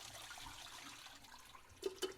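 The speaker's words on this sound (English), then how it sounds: "And yes, I have the water running for a reason." Water runs steadily from a kitchen tap beside a pot of hard-boiled eggs, a soft continuous hiss that ends with two light clinks.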